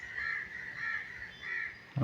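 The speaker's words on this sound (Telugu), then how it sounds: "ఆ గద్ద దగ్గరికి ఇప్పుడు ఇంకో కాకి వచ్చింది," A crow gives three hoarse caws at a moderate distance, evenly spaced across two seconds, outdoors near a hawk that has caught a pigeon.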